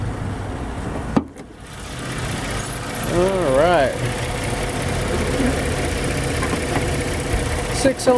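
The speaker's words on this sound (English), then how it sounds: "V6 engine, absolutely purring like brand new" A 2007 Ford Edge SE's 3.5-liter V6 engine idles steadily at a low, even hum, with a sharp click early on and a brief whining tone partway through.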